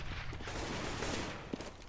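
Gunfire in Counter-Strike on the de_dust map: a faint, distant volley of shots pops under a steady low background hum, with a sharper report near the end.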